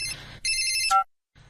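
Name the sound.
mobile phone ringtone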